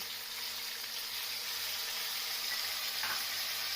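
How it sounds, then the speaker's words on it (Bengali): Whole cumin seeds, bay leaf and dried red chili sizzle in hot oil as a tempering for a stuffed pointed gourd dish, a continuous bright crackling hiss heard close with no talking. "গোটা জিরে তেজপাতা শুকনো লঙ্কা ফোড়ন দিয়ে দিলাম"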